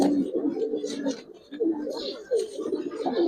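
Giribaz pigeons at a loft giving soft, repeated throaty coos in short phrases, fairly faint and close, with some background chatter.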